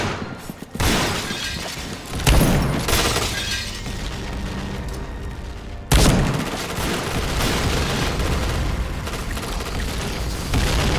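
Glass breaking in the tactical shooter Point Blank, with loud bursts and crashes at about 2 and 6 seconds, set over dense ongoing gunfire and game noise.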